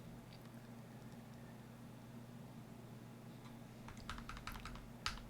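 Computer keyboard typing, quiet at first and then a cluster of crisp, close keystrokes toward the end over a steady low hum.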